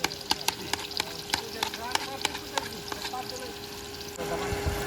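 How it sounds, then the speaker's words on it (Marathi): Onion frying in hot oil with cumin during an outdoor mutton party on a farm, a steady close sizzle with a regular series of clicks and knocks over it, thickening into a denser hiss at the end. "तेल तापले, कांदा तुम्ही टाका"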